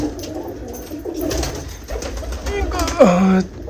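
Pigeons kept by a Punjabi fancier, birds sitting on nests, give a short nasal coo near the end, rising over steady ambient noise with a voice talking earlier.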